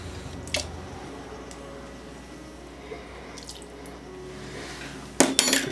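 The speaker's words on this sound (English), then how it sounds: "So let's get another tablespoon of water in there." A tablespoon of water is added to a thickening Grand Marnier cake glaze in a home kitchen: a soft steady trickle with faint drips, then a brief louder splash and clatter at the end.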